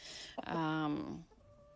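A single drawn-out Light Brahma hen vocalization, a clear nasal cluck-like call rising briefly and fading, close by with faint background noise.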